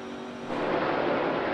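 NASCAR stock cars race on the Daytona road course, a dense, rough engine roar that swells suddenly and then holds loud and steady.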